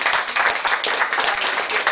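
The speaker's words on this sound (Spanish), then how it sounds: "Un aplauso." Audience applause at an anniversary gathering, a dense steady wash of many hands clapping close by, loud and continuous with no pauses.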